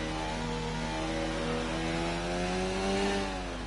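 A Formula 1 race car engine in a PS4 esports racing game at Bahrain, held flat out down the main straight, a loud steady high-pitched whine with stacked harmonics climbing gradually in pitch as it accelerates.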